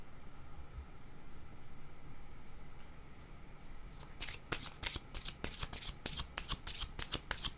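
Playing cards being shuffled before a card is drawn in a tarot-style reading: quiet at first, then a run of crisp, close riffling bursts fills the second half with no talk.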